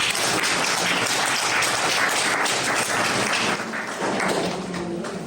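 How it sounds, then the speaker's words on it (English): Sustained applause from a live audience at a community podcast show about athlete leadership, a dense steady wash of clapping that fades slightly toward the end. "A round of applause for you guys."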